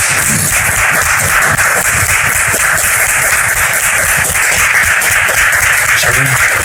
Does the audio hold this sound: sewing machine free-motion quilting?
no